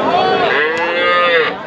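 A calf at a cattle market lets out one loud, drawn-out moo that wavers in pitch and lasts nearly two seconds, close and clear above faint background noise.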